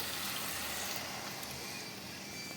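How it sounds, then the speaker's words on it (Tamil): Tamarind water is poured into frying bitter gourd in a pan, making a continuous broad hiss of liquid hitting the hot mixture, steady and close throughout. "இப்போ நான் வந்து புளி தண்ணி சேர்த்துக்க போகிறேன்"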